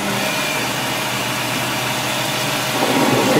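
A metal lathe with an electronic leadscrew parts off a workpiece, giving a steady, even mechanical whir and cutting noise that holds constant throughout, with a slight swell near the end.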